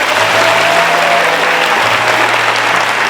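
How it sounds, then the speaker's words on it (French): A live audience at a comedy awards show claps loudly and continuously, a dense, sustained wash of applause with no pauses. "ils vont t'applaudir comme des malades"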